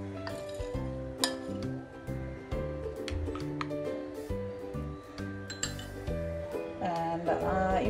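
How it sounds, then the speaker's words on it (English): Glass clinking as oats with chopped hazelnuts, almonds, walnuts and raisins are stirred with a spoon in a glass, a steady run of close, bright taps and scrapes with no talk. "So just mix everything well."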